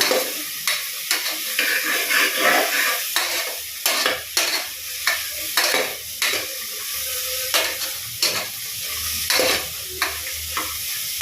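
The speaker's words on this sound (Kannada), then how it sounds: "ಇಷ್ಟನ್ನ ಚೆನ್ನಾಗಿ ಫ್ರೈ ಮಾಡ್ಕೊಂಡ್ಬಿಡೋಣ" Whole cloves frying in hot oil in a pan for chicken curry, a steady crackling sizzle broken by repeated scraping stirs of a spoon against the pan, loud and close with no talking.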